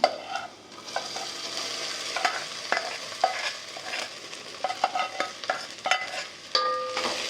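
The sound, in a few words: fried okra added to onions and stirred in pan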